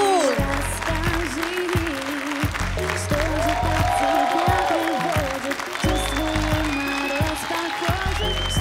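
Audience applause on a Armenian TV talent show: steady, dense clapping from a studio crowd sustained for several seconds, with a host talking and music playing underneath.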